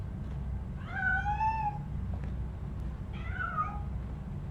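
A cat in the video game Robocop: Rogue City meows twice, clear drawn-out cries about two seconds apart over a low steady background hum.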